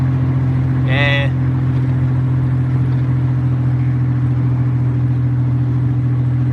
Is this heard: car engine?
yes